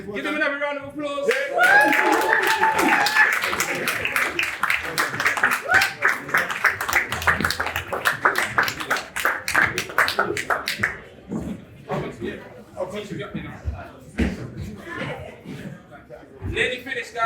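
Sustained applause with claps and cheers at a Manhood Academy graduation ceremony for boys aged 8 to 12, loud and lively, tapering off toward the end as voices chatter underneath.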